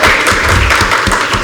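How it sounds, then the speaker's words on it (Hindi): Applause from an audience at an Independence Day broadcast event, a steady wash of clapping that fills the whole moment without any voices. "सर तालियां तो बजा दें आप तो"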